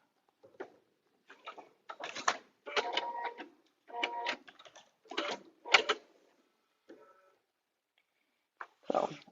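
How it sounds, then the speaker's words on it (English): A home sewing machine sewing slow locking stitches on a paper-pieced butterfly dresser scarf, in several short separate bursts of whirring with quiet pauses between them. "I'm going to do some locking stitches"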